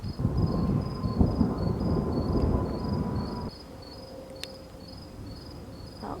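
Deep thunder rumbles close overhead from a lightning bolt in a severe storm in Dubai, a heavy roll that cuts off abruptly and leaves a quiet backdrop of steady insect or cricket chirping.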